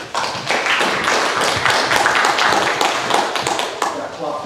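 An audience claps at a rescue-corps talk before the speaker begins, a fairly loud, dense burst of clapping that runs evenly for several seconds with no one speaking.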